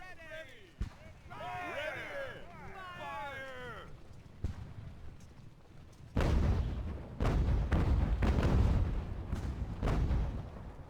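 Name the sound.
artillery fire in Ultimate Admiral: Age of Sail video game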